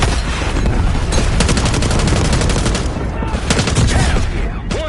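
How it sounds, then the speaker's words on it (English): Dense, loud gunfire and rapid explosive bursts from a mortar strike in the Call of Duty Black Ops 6 campaign on PS5, continuous and close throughout. "Hit it with the mortar."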